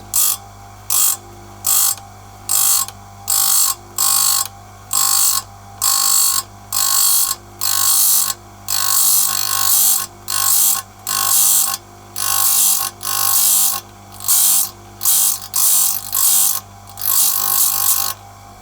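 A saw chain is sharpened tooth by tooth on a sharpening machine with a 3.2 mm grinding disc for 3/8-pitch chain. About twenty evenly spaced, loud, harsh grinding bursts sound up close, separated by short pauses.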